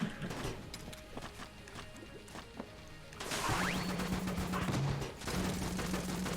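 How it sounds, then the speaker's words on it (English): Ice explosion from remote bullets in the roguelike shooter Enter the Gungeon: a burst of crashing, shattering noise followed by a sustained loud roar with brief chirping tones, amid earlier rapid gunfire. "Ice explosion."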